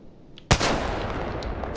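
In the Apex Legends video game, a single loud gunshot cracks sharply, then a rumbling echo and a dense wash of battle noise follow, with faint later pops.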